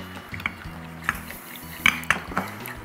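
Flour and water for homemade bread being mixed quickly in a bowl, with light scattered clinks and scrapes of a utensil against the dish, close and fairly quiet, with no talking.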